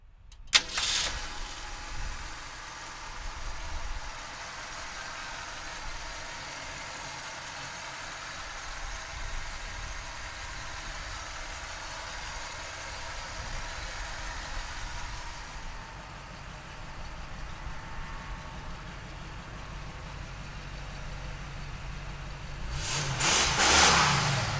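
A 1966 Ford Mustang convertible engine cranks and fires, then settles into a steady, moderately loud idle for a long stretch, rising again with a rev near the end.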